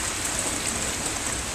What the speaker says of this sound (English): It is pouring down rain, as you can tell.